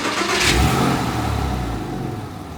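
Porsche Boxster with a new exhaust fired up for the first time: a close, loud, steady engine rumble that flares briefly at the start, then settles into a continuous idle with no talk.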